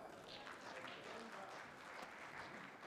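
A festival audience at a Ramayana celebration claps steadily in a dense, even burst of applause that lasts for about three seconds with no break.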